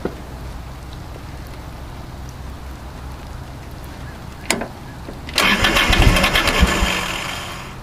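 Kubota loader diesel engine cranking after the glow plugs are heated, a sharp knock, then a rough burst of starting and running that fades slightly, close by.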